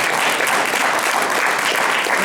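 An audience at a Negro Leagues centennial event in Arizona applauds steadily, a dense, even wash of clapping with no talk over it.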